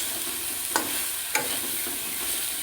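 Pointed gourd frying in a pan gives a steady, hissing sizzle throughout, broken by two soft clacks of stirring.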